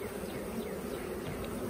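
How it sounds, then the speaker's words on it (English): Honey bees hum and buzz in an open hive during a beekeeping inspection, a continuous, close, even drone with no voices over it. "Lots of bees down in there."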